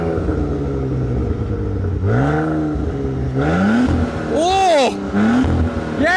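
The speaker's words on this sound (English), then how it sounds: "Number 3 has to be the noise of this 3-litre V6 engine." A 2022 Maserati Levante's 3-litre V6 engine revs hard in sport mode against a 5,000 rpm soft limiter, pitch climbing and falling in repeated sweeps, loud and close, with a sharp high rev near the end.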